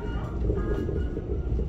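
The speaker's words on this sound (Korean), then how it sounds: "우리 열차는 잠시 후 마지막 역인 용산역에 도착합니다." A Korail passenger train pulling into Yongsan Station in Seoul gives a steady, heavy low rumble from inside the carriage, constant and without speech.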